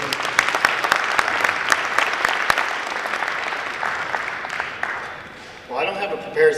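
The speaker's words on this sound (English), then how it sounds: "So I want you to really give my new best friend a big round of applause as he comes to greet us" An audience claps for a speaker arriving at a youth entrepreneurship panel: dense, sharp applause rings out near and loud, then thins and fades over several seconds before a voice comes in at the end.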